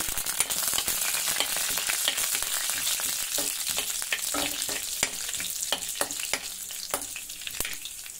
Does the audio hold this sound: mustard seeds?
yes